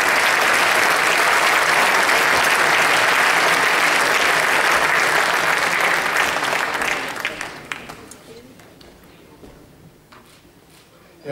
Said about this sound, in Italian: Un bel applauso anche il nostro.